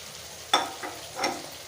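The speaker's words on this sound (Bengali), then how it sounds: "দিয়ে দেব কতগুলো কাঁচামরিচ, দিয়ে দেব সে টাকি মাছের শুটকিটা।" Dried taki fish and green chillies hitting a hot pan over garlic and ginger paste, a soft background crackle broken by three short bursts of sizzle and stirring as the ingredients go in.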